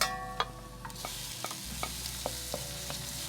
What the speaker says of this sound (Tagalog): so gisa-gisa lang tayo, guys. Lagay na natin ang kamatis